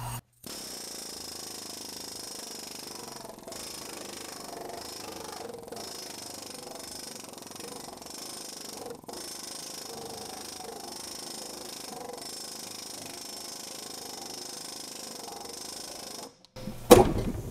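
An air-powered planishing hammer strikes aluminum sheet in a shop running on about 150 psi, a steady fast buzzing rattle at moderate level, briefly pausing a few times and cutting off near the end.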